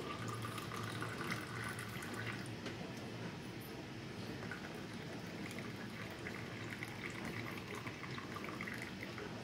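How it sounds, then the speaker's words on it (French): Water pours steadily while mint tea is being made, a continuous close rush of liquid that runs at an even level for the whole stretch. "La deuxième eau que je récupère, je la verse ici."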